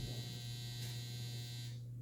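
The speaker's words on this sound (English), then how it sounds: "that beep means my dryer's done" A clothes dryer's finish signal sounds as a steady electronic buzzing tone, continuous and fairly quiet against a room hum, with no one talking.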